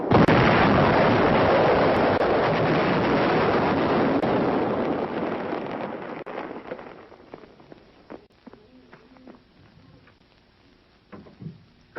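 Firing of the WW2 American Little David 36-inch (914 mm) mortar: a long roaring blast and rumble dies away over several seconds, followed by scattered faint thuds and pops in the quiet.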